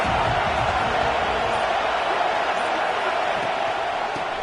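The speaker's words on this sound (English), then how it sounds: "This crowd ready to make its presence known." A packed college football stadium crowd at Clemson roars as a dense, continuous wash of noise, loud and unbroken throughout.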